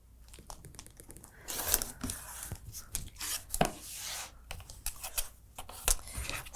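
A Creative Grids Pineapple Trim Tool guides a rotary cutter trimming a fabric quilt block on all four sides, giving soft irregular crunching and slicing strokes with brief pauses between cuts.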